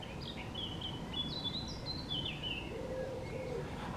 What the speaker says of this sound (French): c'est une fauvette à tête noire qui m'interrompt